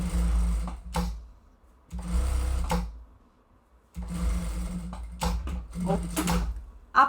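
Sewing machine stitching fabric along the presser foot edge for a small lined zip pouch, running in bursts of a second or so with rapid needle chatter and brief pauses between runs, close up.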